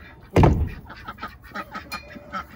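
Ducks quack in a farmyard pen near goats: one loud, close burst of quacking followed by a scatter of softer, rapid quacks and calls.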